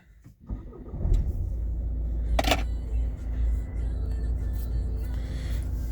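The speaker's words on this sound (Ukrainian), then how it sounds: "Так, Зараз заведемо автомобіль." A Renault Grand Scenic 2020 with the 1.7 dCi diesel starts up with a short crank, then settles into a steady, close idle rumble that continues alone to the end.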